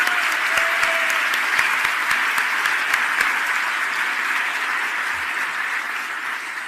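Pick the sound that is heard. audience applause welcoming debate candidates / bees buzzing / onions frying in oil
audience applause welcoming debate candidates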